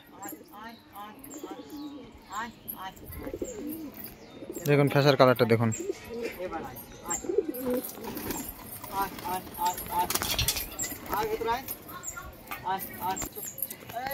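A flock of pigeons takes off and flies together, a burst of flapping wings standing out midway amid soft cooing and chirps, with a person talking throughout.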